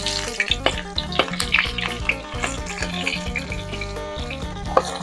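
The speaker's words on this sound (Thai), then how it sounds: "น้ำมันร้อนแล้วหัวใหญ่ลงไปแล้วนะครับ" Sliced onion fries in hot oil with a crackling sizzle, heard under sustained music with tonal harmonics and a steady beat.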